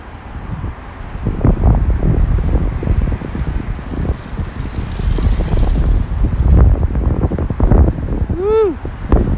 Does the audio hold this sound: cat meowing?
no